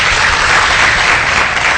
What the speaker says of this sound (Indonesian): Tepuk tangan buat Dokter Daniel.